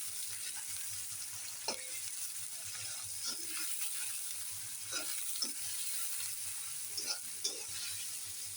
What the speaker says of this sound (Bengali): এই যে চিংড়ি মাছটা ভেজে নিচ্ছি।